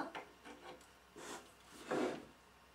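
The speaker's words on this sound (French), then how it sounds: "Donc, je desserre ma vis, comme tout à l'heure." A few soft rasping scrapes of a screw being loosened on an armchair during disassembly, close and quiet, in short separate strokes with the last one loudest.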